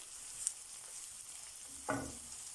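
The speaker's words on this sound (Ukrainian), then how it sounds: "перемішуємо до однорідності і жаримо 2 хвилинки." Soft, steady sizzling of onions and garlic frying in a pan, with a brief scrape of stirring near the end.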